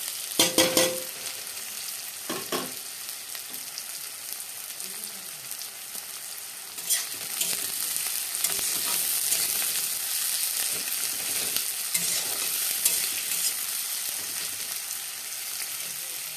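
Onion and chopped chili frying in a pan, a continuous crackling sizzle with scattered clatters of stirring, swelling louder about halfway through, with faint voices now and then.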